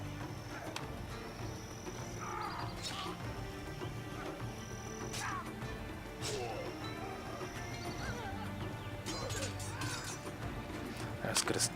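Cavalry horses charging in the video game Total War Battles: Shogun, with hoofbeats, neighs and battle clashes in the distance, some of it under someone talking.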